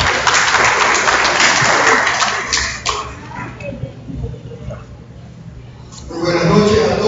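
Clapping from a seminar audience welcomes a lawyer to the lecture podium, dense and fairly close for the first three seconds, then thinning into scattered claps and room murmur before a second burst near the end.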